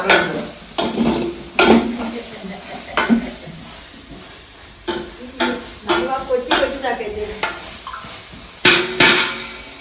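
Biryani ingredients fry and get stirred in a pot, with a steady sizzle beneath repeated scraping and clanking strokes of a spoon against metal, close and fairly loud, while voices talk intermittently.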